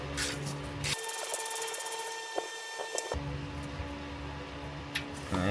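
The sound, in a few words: thread chaser cleaning bolt threads on a Toyota Tundra frame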